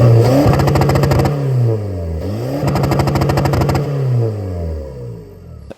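A diesel Skoda Fabia vRS with a stage 1 map and popcorn limiter revs hard several times in quick succession, the engine note sweeping up and down with crackling pops and rapid limiter stutter, loud and close.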